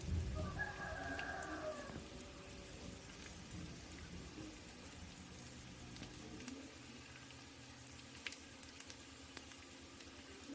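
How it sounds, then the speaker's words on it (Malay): Soft, steady rain hissing in the background, with a distant rooster crowing briefly near the start. "Hujan-hujan lagi nih"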